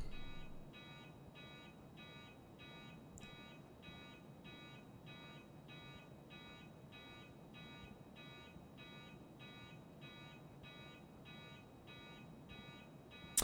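Repeating electronic alarm tones sound in the video game Escape from Tarkov on the Interchange map. The beeps pulse in a steady, even rhythm for the whole stretch at moderate loudness, with no voices.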